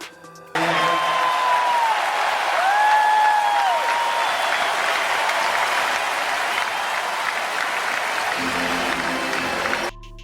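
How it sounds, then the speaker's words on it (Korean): Steady, loud applause from a New York basketball playoff crowd against Indiana, continuous clapping filling the arena with a few whistles over it, ending abruptly near the end. "뉴욕 팬들은 벤치로 들어가는 하트에게 아낌없는 박수를 보냈고"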